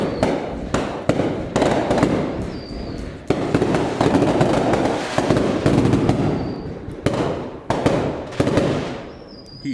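Fireworks boom again and again in loud, close bursts with crackling tails, each explosion following quickly on the last across the whole stretch.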